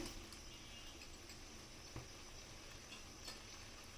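Bay leaves dropped into hot oil for a mixed vegetable labra, giving a steady close sizzle and fry hiss with a brief pop near the middle and another toward the end.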